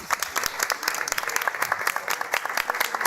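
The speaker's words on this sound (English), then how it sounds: "let's give a round of applause to our panelists" Dense, steady applause from an audience thanking a panel of speakers, many hands clapping close together for about three seconds without a break.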